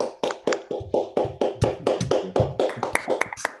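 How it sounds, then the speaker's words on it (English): Scattered applause from an unmuted online meeting audience, a few hands clapping unevenly and a bit sparsely, close and dry, for a lecture on quantum machine learning. "I will unmute everybody, and we would like to try to give you applause, nevertheless."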